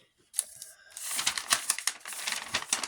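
Paper rustles and crinkles as a paper surprise packet is opened by hand, starting with a sharp tear, then a busy stretch of close crackling handling.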